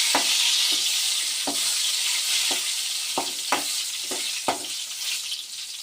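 Dried red chilies fry in hot oil for a drumstick-leaf dal tempering. A steady, bright sizzle runs throughout, punctuated by regular clicks of a spoon stirring against the pan.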